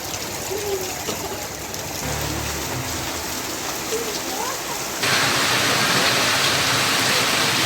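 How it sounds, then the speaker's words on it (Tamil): Heavy rain in Tamil Nadu pours down in a dense, steady hiss that swells louder partway through, with a faint low hum and occasional soft tones beneath it. "செங்கல்பட்டு, திருவள்ளூர், வந்தவாசி ஆகிய பகுதிகளில் வெளுத்து வாங்கிய கனமழை."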